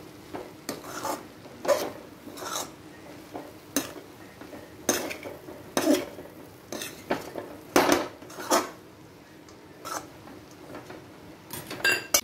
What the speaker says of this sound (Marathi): आता याला आम्ही इथं मिक्स करून घेऊया